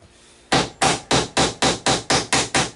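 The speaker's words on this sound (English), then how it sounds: "We're going to tap these bracts down in there good." Tacks are hammered into a cedar bluebird house in a quick run of nine sharp, evenly spaced blows after a brief quiet start, close and loud.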